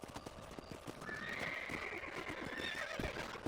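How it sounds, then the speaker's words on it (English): A horse in Red Dead Redemption whinnies in a long rising neigh while hooves clip-clop steadily beneath it, close and moderately loud. "Dismount the horse."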